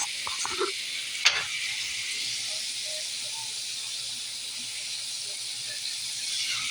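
Stuffing ingredients seasoned with adobo cooking in a pan, a constant soft sizzle and hiss with a brief clatter near the start.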